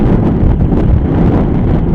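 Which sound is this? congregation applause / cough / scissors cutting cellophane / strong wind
strong wind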